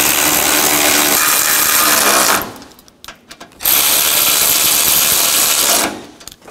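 Power ratchet snugging down radiator cooling fan bolts on a 2009-17 Chevy Traverse: two loud, steady buzzing bursts of about two seconds each, close up, separated by a short pause with faint clicks and handling noise.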